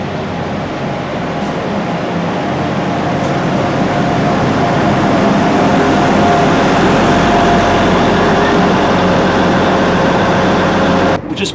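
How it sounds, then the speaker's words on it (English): A steady, loud rumble of a six-coach diesel passenger train, two Class 175 units coupled, pulling into Swansea station, with constant mechanical drone throughout, ending abruptly. "And this is a 6-coach train actually, 2 175s coupled together."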